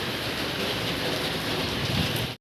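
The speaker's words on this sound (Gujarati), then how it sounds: "વરસાદ તો જેમ જાય વધતો જાય, બંધ થવાનું નામ જ નહીં લેતો." Heavy rain pours down steadily in a close, dense wash of noise that holds at an even level throughout and then stops abruptly.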